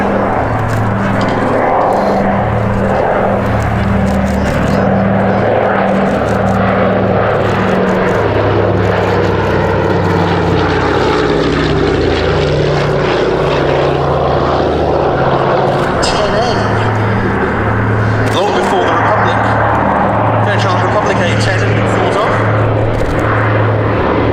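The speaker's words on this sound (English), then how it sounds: "From plain sailing at Duxford, the consolidated PBY-5A Catalina." A Consolidated PBY-5A Catalina flying boat drones past at Duxford, its propeller engines producing a loud, continuous throbbing roar that holds throughout, with a voice talking over it.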